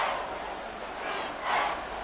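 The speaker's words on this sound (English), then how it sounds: "The crowd getting into it as we come up on a big third down" Stadium crowd in a Madden football simulation of the Dallas Cowboys at the Carolina Panthers, a steady roar of cheering that rises in two swells ahead of a big third down.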